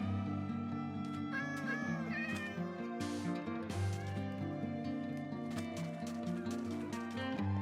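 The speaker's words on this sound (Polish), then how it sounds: "Ale ładne kotki." Repeated Minecraft cat meows, some drawn out into wailing caterwauls, sound over continuous game music. The calls are moderately loud and overlap irregularly across the stretch.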